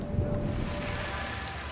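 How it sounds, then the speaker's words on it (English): Torrential monsoon rain pours as a dense, steady hiss and rumble, heavy and close, with a few deeper thumps at the start. "A typical day in the monsoon season. The rain, torrential."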